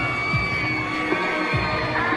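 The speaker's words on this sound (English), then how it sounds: "Hear a lot of screams out in that crowd right now." A wrestling crowd at a Pulse Wrestling elimination triple threat match screams and whoops as a wrestler arrives, a dense, continuous roar with scattered higher shrieks rising out of it.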